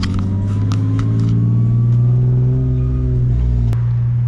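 A car engine hums loudly up close, its pitch rising and falling as it revs, with a sharp click near the end.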